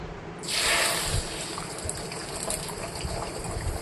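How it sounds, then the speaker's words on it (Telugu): Beaten eggs poured into hot oil in a kadai for Telangana-style double egg fried rice give a sudden loud sizzling hiss that flares up, then settles into a steady crackling fry. "ఇప్పుడు మనం తిప్పి పెట్టుకున్న ఎగ్స్ అంతా దాంట్లో వేసేసుకుందాం"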